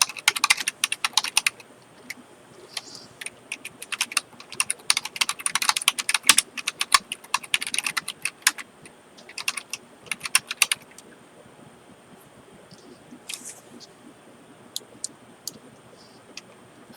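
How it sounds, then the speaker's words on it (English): Keys on a computer keyboard clatter as someone types a password, with fast irregular bursts of clicks for about eleven seconds, then a few scattered taps after a pause. The sound is close and crisp, with no talking. "I don't really feel like typing my password in."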